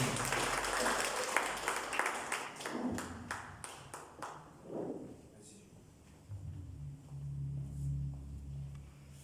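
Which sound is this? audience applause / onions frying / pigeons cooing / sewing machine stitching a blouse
audience applause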